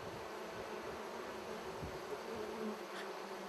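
Honey bees buzz steadily around a wild colony nesting in a hollow bee tree, a dense, continuous hum close by with no voices.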